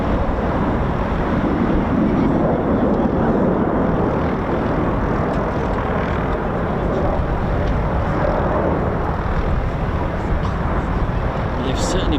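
A Eurofighter EF2000 jet at RAF Waddington, a loud continuous roar filling the whole clip with wind buffeting, while people talk over it.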